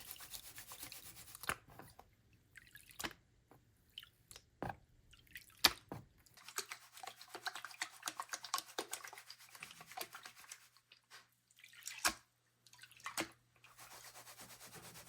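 Gold-bearing material from hard rock mining is panned in water, giving irregular splashes, drips and sloshing swirls with scraping gravel, close and fairly quiet, broken by brief pauses.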